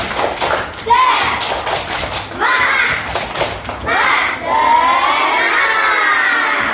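A group of third-grade children shouts and claps together in loud, rhythmic bursts of a spirit clap, several chanted phrases following one another in a noisy classroom.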